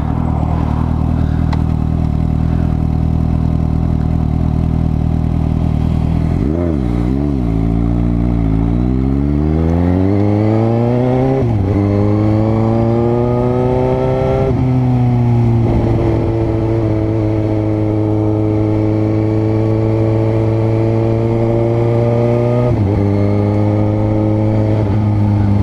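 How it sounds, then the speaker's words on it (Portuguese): A Suzuki GSX-S750 motorcycle engine revs through gear changes while riding, pitch climbing and dropping in several smooth sweeps, loud and close, with no voices. "Vocês estão conseguindo ouvir o barulho da moto aí"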